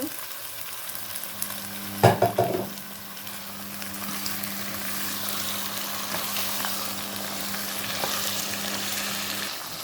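Meat, potatoes and carrots fry in ghee for biryani with a constant close sizzle, broken early by a short burst of loud clattering stirs, then settling into an even hiss with a faint hum.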